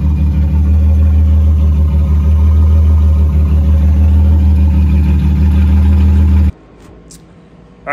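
Jaguar XJS engine running after a fuel cell install, a loud, steady low idle drone close by that cuts off abruptly, followed by near silence and a brief faint noise.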